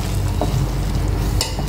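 Noodles cooking in a pan on a gas stove, giving a steady low sizzling frying hiss with a couple of faint utensil clinks, close and continuous, no talking.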